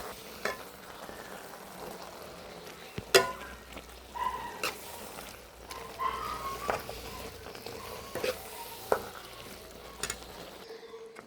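Jackfruit avial being stirred in a pan, giving soft intermittent scraping and a gentle sizzle, with a few louder clinks of the spoon against the pan.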